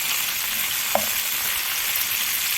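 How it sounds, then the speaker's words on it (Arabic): Chicken and onions sizzle steadily in a frying pan as they are stirred, with one brief clunk of the spoon against the pan partway through. "هنزل بالبصل وهقلب الفراخ مع البصل تقليبة كده حلوة"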